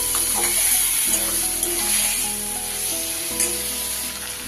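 Mustard-poppy paste being stirred gently in a frying pan with a cooking utensil, a close, continuous sizzle with soft scraping strokes and a low hum underneath, no speech.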